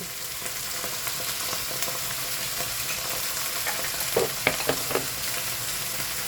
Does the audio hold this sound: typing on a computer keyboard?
no